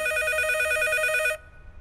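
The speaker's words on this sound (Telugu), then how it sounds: "ఈసారి ఫోన్ మోగుతుంది మన రూమ్ లోనే" A telephone ringing inside a room, a loud trilling electronic ring pulsing rapidly for over a second before stopping abruptly, followed by quiet room sound.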